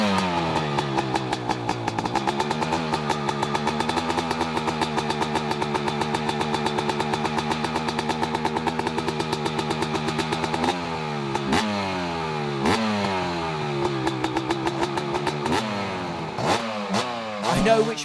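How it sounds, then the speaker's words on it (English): Modern YZ 500cc two-stroke dirt bike ridden on a track, engine revving hard and steady, then rising and falling with repeated throttle blips and gear changes, loud and close with no talk. "Now it's time to take the YZM out on track and find out how it performs in the hands of Josh Spinks."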